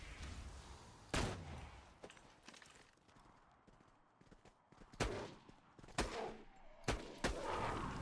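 Sharp gunshots in the Borderlands 2 video game crack out at irregular intervals, several spaced bursts standing out above a faint, quiet backdrop with little talk.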